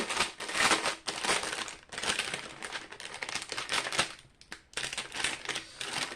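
Plastic bags holding diamond painting kits being handled up close, a steady run of loud crinkling and rustling with brief pauses and no talk.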